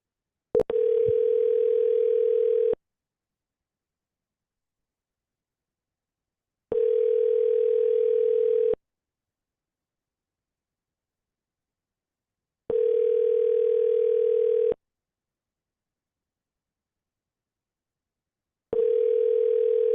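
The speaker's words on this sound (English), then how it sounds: "let's dial her again." A phone call rings out on the line: a steady electronic ringback tone sounds four times, each burst lasting about two seconds and followed by roughly four seconds of silence, clear and isolated.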